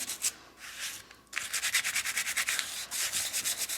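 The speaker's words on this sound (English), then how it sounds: "I'm just going over this with a fine grit sandpaper. This is a 150 fine grit." Fine 150-grit sandpaper is rubbed over plaster on a fabric art journal page in quick back-and-forth strokes, a close, soft rhythmic scratching that pauses briefly before speeding up.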